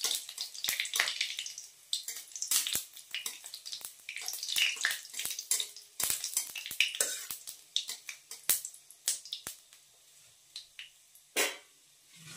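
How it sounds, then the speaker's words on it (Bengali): Spices tempering in hot oil for a kul (jujube) dish, a run of sharp crackling pops and spits scattered irregularly over a faint sizzle, close by, with no talking. "তো এবার এটাকে ভালো করে ভেজে নেব তেলের মধ্যে ফোড়নটাকে।"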